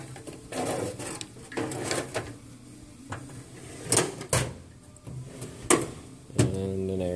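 Metal toolbox drawers, including one holding air tools, slide open and shut several times, with rolling glides and sharp clunks close by in a garage, no talk.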